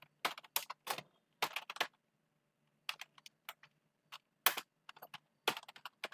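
Someone types on a computer keyboard in quick bursts of close, crisp keystrokes, with short pauses between the runs. The typing is quiet and there is no talk.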